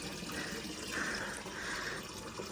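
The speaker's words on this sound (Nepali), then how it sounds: "यसले टक्क लाएर पानी भर्नु लाग्छ।" Water runs from a tap into a container in a steady, rushing stream with slight surges, close and continuous for the short stretch.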